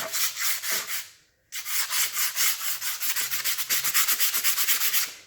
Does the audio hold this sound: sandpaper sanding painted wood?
yes